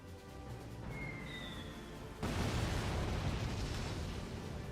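Mortar fire destroys tanks in a war video game, heard as a sudden loud explosive burst that gives way to a sustained roaring rumble, close and dense, with no voices.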